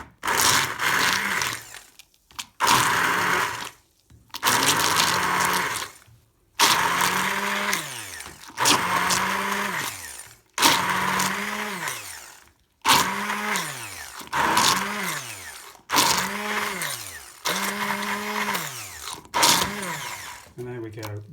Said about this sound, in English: what we're going to use is a standard food blender, a hand blender, just to liquidize that puppy mix